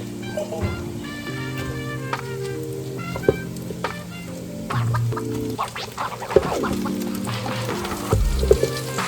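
Shredded cabbage sizzles and crackles steadily in a hot pan, with scattered clinks and scrapes of stirring over a background of harmonic tones.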